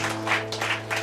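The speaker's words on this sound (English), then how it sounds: "Can we clap and give praise to Jesus?" A church congregation claps in praise, with a few broad bursts of applause rising and falling over a steady low hum from the sound system.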